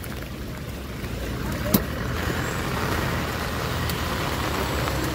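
Road traffic of trucks and cars on a rainy Mumbai road near Mumbra Devi temple: a steady broadband rumble and wet road hiss, with a brief sharp knock partway through.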